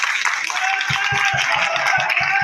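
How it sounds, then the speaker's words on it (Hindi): Audience applause for Mian Arshad at a Pakistani political gathering, a steady dense wash of clapping with a few sharper low thumps toward the end, loud and continuous throughout. "तालियां भरपूर तालियां"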